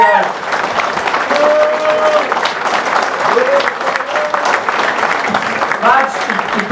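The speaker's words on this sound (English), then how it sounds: "I think we need another round of applause, don't we?" An audience at a live end-of-season party for Newcastle United fans applauds, with dense, steady clapping throughout and some cheering and voices mixed in from the crowd.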